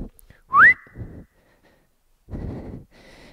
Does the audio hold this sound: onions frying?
no